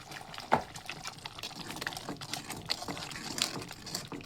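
Andhra chicken curry bubbles in a pan with soft, irregular pops and gurgles. The low, close simmer runs steadily with a few sharper bursts and no voices.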